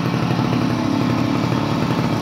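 A Monark Monarquinha moped engine running low on fuel, a steady buzzing two-stroke drone held close and loud for a couple of seconds with no talk.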